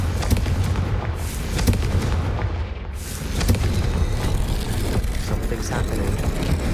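Confringo blasting spell from the Hogwarts Legacy video game, a dense rumbling roar of repeated booms and crackling blasts that fills the clip continuously, dipping briefly midway before surging again.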